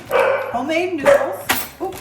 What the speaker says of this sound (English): sorry for my dogs. They don't know how to be quiet.